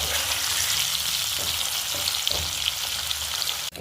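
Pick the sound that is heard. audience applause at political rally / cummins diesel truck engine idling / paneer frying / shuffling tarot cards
paneer frying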